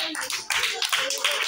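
Young children in a class 1 English lesson clap together briefly in short bursts, close and fairly loud, with children's voices and classroom chatter mixed in.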